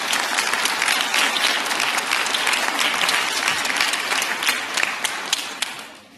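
A school jazz festival audience gives a dense, sustained round of applause for a guest musician, loud and close, then tapers off slightly near the end.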